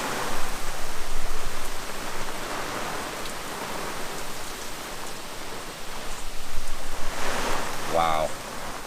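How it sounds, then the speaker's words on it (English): Heavy rain pours down on a sailboat at anchor in a storm with wind around 25 knots, a loud, steady broadband hiss that swells and eases, with brief gust-driven surges near the end. "The rain is intense."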